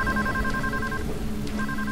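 A telephone rings with steady electronic trills, pausing briefly in the middle before resuming, loud over a busy background of game sound.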